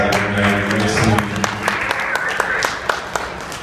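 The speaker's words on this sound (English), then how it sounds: "I think you should all give yourselves a round of applause" Audience at an international conference on masculinities in New York claps after a poetry reading, a loud broad burst of applause that thins into scattered claps while a voice talks over it.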